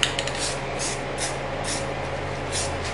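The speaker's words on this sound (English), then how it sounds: "I always like to take and just lightly kind of spray over it" Light bursts of spray paint misted over a handgun being refinished, a steady hissing wash with soft pulses as the can is passed back and forth, fairly close, with a faint low hum beneath and no talk.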